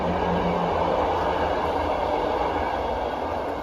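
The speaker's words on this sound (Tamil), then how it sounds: "லெஃப்ட் சைடு ட்ரெயின் போகுது பாருங்கள்" A train rumbles past close by in Kortrijk, Belgium, a loud continuous roar of wheels on rails with a low steady drone throughout.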